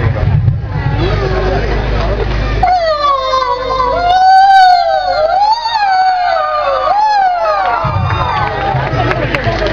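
Over college-stage crowd noise, a mimicry artist gives a long, wavering, rising-and-falling cry imitating a cat's mewling, held for several seconds before the background chatter returns.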